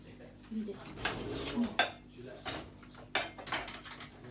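Dishes and pots being stacked in a home kitchen, a series of clattering ceramic and metal knocks at irregular intervals, close and moderately loud with faint speech nearby.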